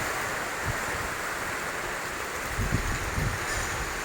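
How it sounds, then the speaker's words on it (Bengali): Heavy rain and gusting wind make a steady, broad hiss, with low rumbling buffets from wind on the microphone swelling briefly partway through. "নিশ্চয় শুনতে পেতেছেন বৃষ্টি আর বাতাসের শব্দ।"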